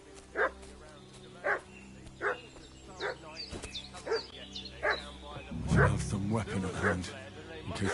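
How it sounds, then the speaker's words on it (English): A dog barks in Kingdom Come: Deliverance II: a string of evenly spaced, fairly near barks, with a voice speaking and other game sounds alongside. "What's that dog making such a fuss about?"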